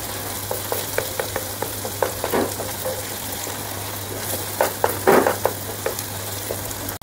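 Finely chopped medium-sized onions frying toward golden brown in a pan, a steady sizzle with intermittent stirring scrapes and clatters, no talking.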